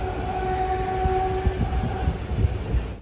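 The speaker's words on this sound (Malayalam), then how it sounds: "ട്രെയിൻ ഇതാ താണെ റെയിൽവേ സ്റ്റേഷനിലേക്ക് എത്തിക്കൊണ്ടിരിക്കുകയാണ്." A train approaching Thane railway station, heard as a loud rolling rumble with rhythmic wheel thumps, while a steady horn-like tone sounds in the first half.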